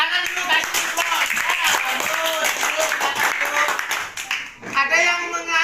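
A classroom group bursts into several seconds of brisk hand clapping, close and fairly loud, mixed with students' chatter and voices.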